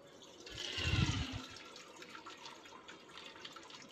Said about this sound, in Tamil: உளுந்து நல்லா ஊறிடுச்சு இப்போ நம்ம வந்து தண்ணியை வடிகட்டிடலாம்